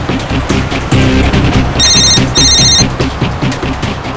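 A telephone rings with a loud electronic ringtone, repeating bursts of bright trilling tones over a pulsing backing pattern while the call to a taxi driver goes through.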